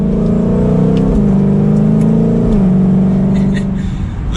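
A muscle car with an automatic transmission accelerates hard in normal mode, its engine note climbing in loud rising sweeps broken by two quick gear shifts before it eases off near the end.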